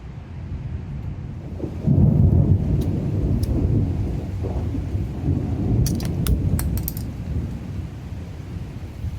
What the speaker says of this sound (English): All right, rain is starting.